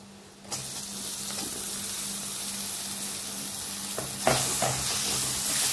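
Finely chopped tomato drops into hot oil with sambar masala, and the sizzle rises sharply on contact and holds as a steady near crackle. A clink and a second surge of frying follow near the end, with no talk.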